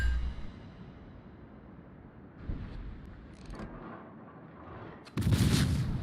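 Tank guns fire in a World of Tanks-style battle with armor-piercing rounds, a loud booming blast near the start, a duller thump midway, and a sharp, heavy cannon shot near the end over low battle rumble.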